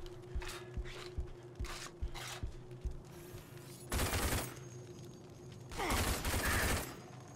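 Blind-fired gunfire in the shooter RAGE on PC: several short bursts of shots early on, then two louder, denser volleys, with no voices.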